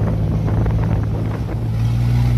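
A motorboat engine drones steadily on a boat hit by waves, while strong wind buffets and roars across the microphone.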